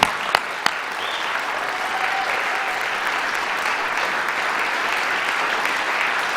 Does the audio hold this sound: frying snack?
no